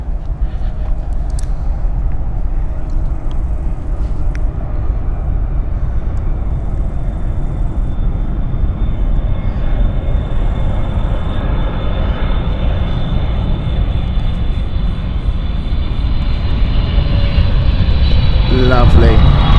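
A passenger airplane landing at Frankfurt Airport, a long, loud, rumbling jet roar that holds steady and swells toward the end as the aircraft touches down, with a voice talking over it.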